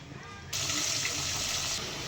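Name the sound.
water poured into kurma curry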